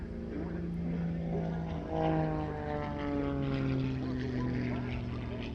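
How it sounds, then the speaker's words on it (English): A de Havilland DHC-1 Super Chipmunk propeller plane flies past at an air show, its engine drone steady and moderately distant, with the pitch sliding downward as it passes. "Flying this de Havilland DHC-1, designed originally as a trainer for the Royal Canadian Air Force"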